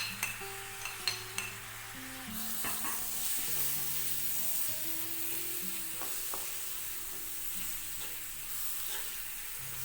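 Tomatoes with masala, ginger and garlic sauté in a pan for a kappa and chicken biryani, giving a steady close sizzle with stirring scrapes and occasional light utensil clinks throughout.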